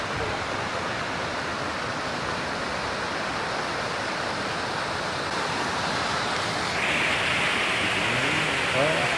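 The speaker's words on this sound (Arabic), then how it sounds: "وها نحن أمام شلالات شاكي" Steady, broadband rushing roar of Shaki waterfall in Armenia, loud and continuous throughout, with a faint voice briefly audible beneath the water noise.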